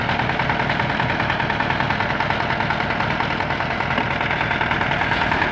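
A small 4x4 tractor engine runs steadily while driving with the front axle engaged, giving a continuous loud mid-range drone with a slight knocking texture and no talk.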